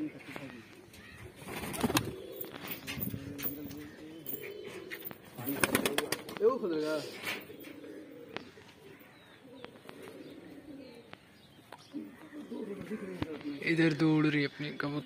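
Pigeons coo and murmur close by amid rustling and scattered clatter, with bursts of movement that sound like wings or feet shuffling.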